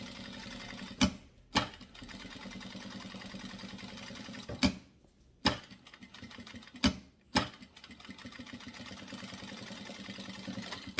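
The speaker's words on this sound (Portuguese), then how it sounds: "Vamos passar uma costura de segurança aqui, ó, em volta de tudo" A sewing machine whirs through a safety seam around the edges of fabric pieces in short steady runs, broken by several sharp clacks and pauses as the work is repositioned.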